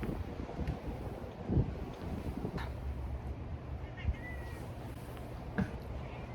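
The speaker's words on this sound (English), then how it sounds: "Can you hear my cat?" Outdoors on a patio, a pet cat meows three times at spaced intervals, moderately close, over steady wind buffeting the microphone.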